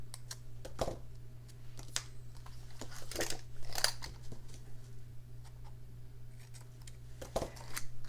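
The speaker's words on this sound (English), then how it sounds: "Now I like to trim up the edges first." Scissors trim the edges of a handmade paper journal in a few short, crisp snips, close up and fairly quiet over a steady low hum, with no talking.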